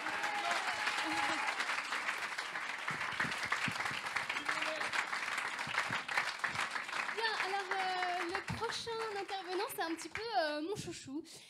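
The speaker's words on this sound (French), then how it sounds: "On peut les applaudir." An audience at a French advertising awards evening applauds, a sustained wash of clapping that gradually gives way to voices talking and laughing over the fading claps toward the end.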